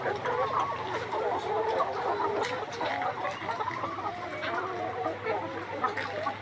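A flock of 153-day-old layer hens clucks in a busy, overlapping chorus, steady and close, with soft murmuring from many birds and a faint hum underneath.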